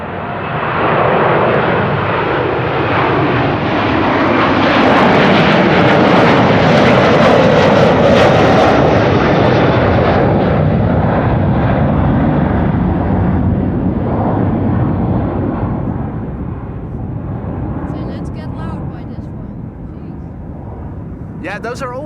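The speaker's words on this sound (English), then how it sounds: "Delta Airlines Flight 73 to Atlanta, Georgia is taking off from runway 24" A Delta Airlines jet airliner takes off from runway 24 at Amsterdam Schiphol Airport, its loud engine roar swelling to a peak and then slowly fading into the distance.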